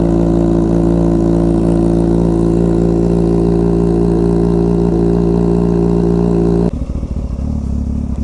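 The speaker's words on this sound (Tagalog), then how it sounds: "Painit muna tayo ng motor guys bago alis." A motorcycle engine warms up, idling loud and close with a steady, dense drone, then drops sharply as the revs change near the end; no one speaks.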